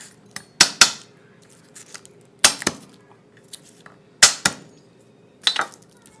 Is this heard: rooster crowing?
no